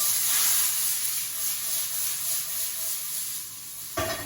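Green beans, garlic and onions frying in a pan, a bright steady sizzle close by that eases slightly, then a sharp clatter right at the end.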